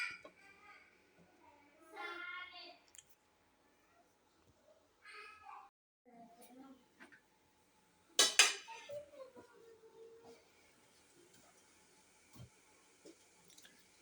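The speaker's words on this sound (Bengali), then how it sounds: "এখন ঢাকনা দিয়ে ঢেকে দিব।" A metal lid set onto a pot for steaming momos gives a few clinks and clatters, the loudest a bright clang partway through, amid scattered quiet kitchen handling noises and brief speech.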